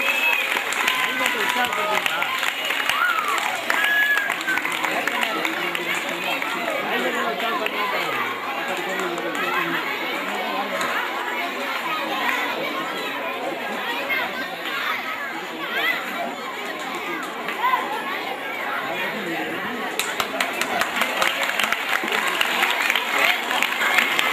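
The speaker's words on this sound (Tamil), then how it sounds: "மாணவர்கள் கரகோஷம் எழுப்பும்படி கேட்டுக்கொள்ளப்படுகிறீர்கள்" Students applauding at a school sports day, sustained crowd clapping mixed with chatter across a wide outdoor space, steady and moderately loud throughout, swelling slightly near the end.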